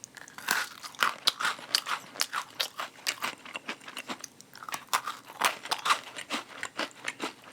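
Loud, close crunching and chewing of crisp green tea Pepero sticks goes on in a rapid, irregular rhythm of brittle snaps and crackles, with no talking.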